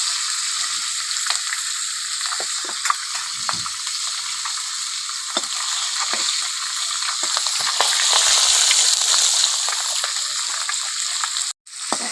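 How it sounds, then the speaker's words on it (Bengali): A halved fish head fries in hot oil in a pan as it is broken up with a spatula. It makes a loud, constant sizzle and crackle up close, with scraping knocks and stirring throughout. "মাছের মাথা একটু খুঁটি দিয়ে মানে ভেঙে দিচ্ছি যাতে ভালোভাবে ভাজা হয়ে যাবে"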